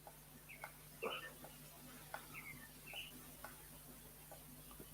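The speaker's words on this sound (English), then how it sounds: "There's some birds outside your house," Birds chirping outdoors beside a house in a forested area near lakes, short scattered high calls repeating over a steady low hum, moderately distant and fairly faint.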